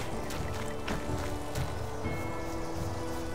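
A rain spell in the wizard game Magicka fills the scene with a steady hiss of falling rain and pattering drops, dense and continuous throughout.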